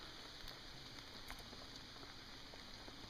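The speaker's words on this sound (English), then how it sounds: "Rain," Rain patters faintly and steadily on surfaces at a campsite under heavy overcast, with a few scattered louder drops over a constant soft hiss.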